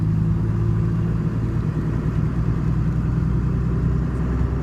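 A car converted from automatic to a Getrag manual gearbox drives on a test run, heard from inside as a steady, loud engine and road rumble without break.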